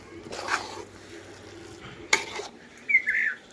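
Spoon stirring beef bhuna khichuri with ghee and mustard oil in a pot, soft close scraping strokes with a sharp clack partway through and a faint sizzle underneath.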